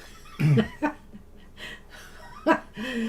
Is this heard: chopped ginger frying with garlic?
no